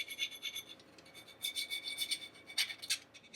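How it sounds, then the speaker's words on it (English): A hand file rasps burrs off a part for a DIY teardrop camper add-on, rhythmic back-and-forth strokes close and fairly quiet, in bursts with short pauses and no talk. "Now I just want to file the little burrs off and make it nice and clean"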